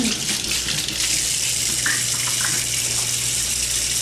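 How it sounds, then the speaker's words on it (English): Water gushes steadily from a kitchen tap while hands are washed, a loud, close, continuous rush with small splashes from hands moving under the stream. "I'm going to wash my hands again"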